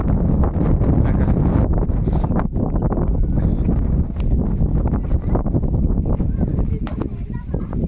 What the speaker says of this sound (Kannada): ಗಾಳಿ ಜೋರಾಗಿ ಗಾಳಿ ಒಂದು ಬೀಸ್ತಾ ಇದೆ ನೋಡ್ರಿ